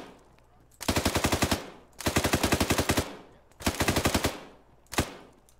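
Three loud bursts of rapid machine gun fire in a video game, each about a second long and evenly spaced, ending with a single short shot, with no talk.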